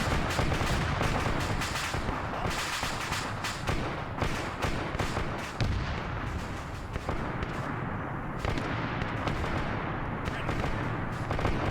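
Dense, continuous gunfire and explosive booms from sentries and fire teams in a Warhammer 40k spire defense video game, loud overlapping shots and thuds with no pause throughout.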